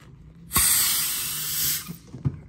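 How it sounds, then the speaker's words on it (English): A Motive pressure bleeder cap is slowly unscrewed during a brake fluid change on a Porsche Cayman S 987, releasing a sharp, loud hiss that lasts about a second and a half before fading into small clicks and puffs. "So once you're done, you just slowly unscrew this cap to release the pressure."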